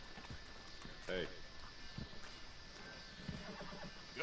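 A horse in the Red Dead Redemption 2 game whinnies briefly and fairly close by, standing out over a steady ambient bed with faint scattered hoof clops before and after.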